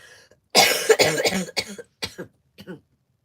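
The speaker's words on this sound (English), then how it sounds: "So I'll just cough." Several harsh coughs in a row, loud and close, the bursts growing shorter and weaker before silence.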